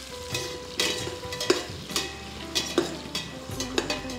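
Chopped onions fry in a pan for paneer pulao, a steady close sizzle with scraping stirs and a few sharp clinks of a utensil against the pan, no voices.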